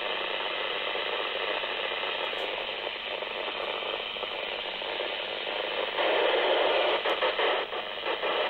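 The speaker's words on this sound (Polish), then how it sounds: "Próba odbioru tego samego beacona przy podłączeniu w torze antenowym filtru wycinającego pasmo broadcastingowe FM" Radio beacon signal received on a Retevis Ailunce HD2 handheld through an FM broadcast band-stop filter, heard as a steady loud hiss of receiver static with faint ticking interference, swelling louder near the end.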